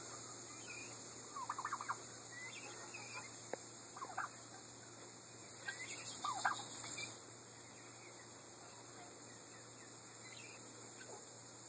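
Turkeys gobble in brief bursts at a distance on a farm with guineas and ducks, a few rattling calls scattered over a steady hum of crickets or insects outdoors.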